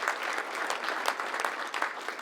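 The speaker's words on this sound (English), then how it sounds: "You can clap now." Brief, steady audience applause at a college event, dense clapping filling the room with no voices over it.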